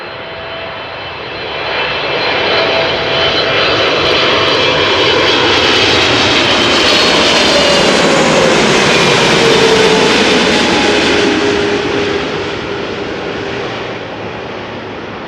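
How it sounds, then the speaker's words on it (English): KLM Boeing 777-300ER landing at Amsterdam Schiphol from Cape Town: a loud, close jet-engine roar builds within two seconds, holds with whining engine tones that bend downward, then fades near the end. "KLM 5598 arriving from Cape Town, South Africa."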